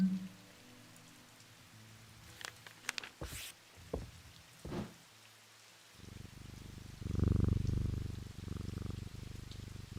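A house cat purrs close up, a soft rumbling that swells in the second half after a few quiet clicks and rustles, with no talking.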